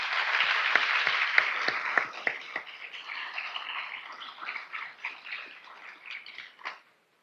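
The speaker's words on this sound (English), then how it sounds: "Can we give them a round of applause, please?" An audience at a talk on racism and health equity claps in a thin, scattered round of applause that starts strong, thins out gradually and stops abruptly near the end.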